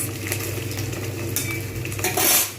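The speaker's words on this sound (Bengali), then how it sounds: "বেশ দু তিন মিনিট আমি কিন্তু এইভাবে নেড়ে নেবো ভালোভাবে ভেজে নেবো" Okra is stir-fried in a pan, with a metal spatula scraping and clinking against it in quick repeated strokes over a light sizzle; close and fairly loud, with a sharper clatter near the end and no talk.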